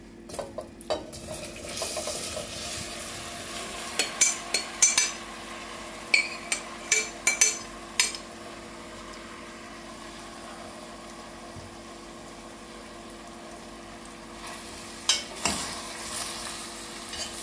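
Soft sizzling of apple slices frying in caramel, with repeated stirring and scraping in a pan, punctuated by clinks of a utensil against metal; no voices.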